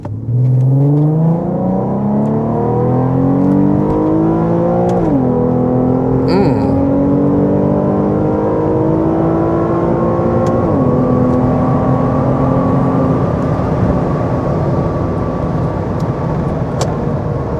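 An Infiniti Q50 fitted with a Megan Racing Y-pipe accelerating hard on a freeway, the engine droning loudly from inside the car, rising in pitch through two gear shifts and pulling steadily higher.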